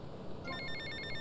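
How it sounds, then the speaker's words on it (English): A phone rings in the video game GTA Vice City Definitive Edition, a faint electronic trilling tone that starts partway in and repeats in quick pulses over a low background bed. "If you approach Auntie Poulet's house, you will actually get that phone call"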